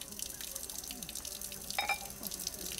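Water runs from a memorial spring fountain in a park, a faint, steady trickle and splash with occasional brighter drips.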